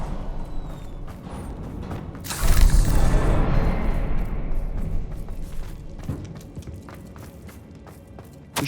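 A Confringo fire spell detonates in the Hogwarts Legacy video game with a loud, broadband boom around the third second, then a long rumbling tail that fades over several seconds, with scattered thuds and creaks afterward.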